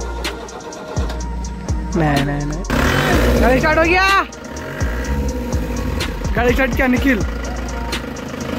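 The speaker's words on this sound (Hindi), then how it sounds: "गाड़ी हो गई स्टार्ट, गाड़ी आ रही है पीछे।" A car engine starts and idles at night, a low steady rumble running under loud, lively talk from several people throughout.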